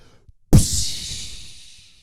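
One vocal imitation of a crash cymbal, a bright breathy hiss that bursts in loudly and thins out gradually over about a second and a half, close and unaccompanied.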